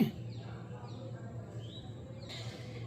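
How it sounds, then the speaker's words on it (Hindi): Birds call faintly outdoors in the early morning, a few thin, scattered chirps over a low steady background hum. "चिड़िया सब आवाज़ कर रही है सुबह सुबह"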